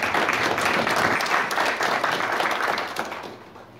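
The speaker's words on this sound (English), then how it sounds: "I think she deserves a very special applause" An audience applauds steadily after a speech at a UNFPA event on maternal health funding, a dense wash of clapping that fades out near the end.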